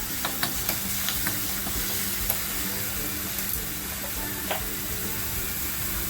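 Batata vada potato mixture sautés in hot oil with a steady, close sizzle, interrupted by light clicks and scrapes from stirring with a spoon in the pan.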